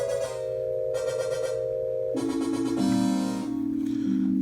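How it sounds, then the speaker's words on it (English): A Qu-Bit Chord synth module holds a sustained electronic chord that steps through shifting tones as modulation sweeps its waveforms, giving a bright, filter-sweep-like change in timbre with no voices. "What you're hearing now is sort of like a filter sweep"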